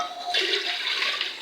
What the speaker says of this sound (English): Then we need to pour water.